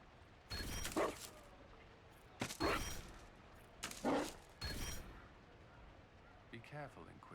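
A dog barks in Dragon Age: Inquisition, four separate bursts spaced about a second apart over a quiet background, followed by faint murmuring.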